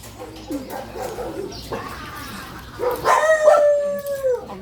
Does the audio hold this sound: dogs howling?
yes